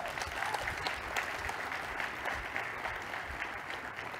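Steady audience applause fills a large keynote hall at a CNCF cloud-native conference, a dense, even wash of many hands clapping throughout without pause.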